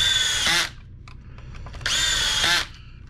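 Power drill driving large screws into a Kenmore Progressive canister vacuum cleaner during a repair, two loud whirring bursts about a second apart with a brief pause between, close by.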